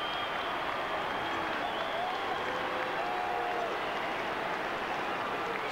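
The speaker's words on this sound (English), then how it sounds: "So there was just a token of applause from those Eagles supporters." Scattered applause from Eagles supporters in a large football stadium crowd after a goal, a steady broad roar with a commentator talking over it throughout.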